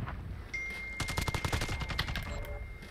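Gremlin AUG hip fire in Call of Duty Modern Warfare rattles off as a rapid automatic burst of about a dozen close, loud shots after a brief pause, ending with a short tail.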